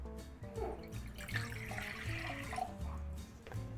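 Water poured into a glass bowl, the start of a beginner's sourdough with flour nearby; a steady, close trickle and splash runs for about four seconds, moderately loud and alone.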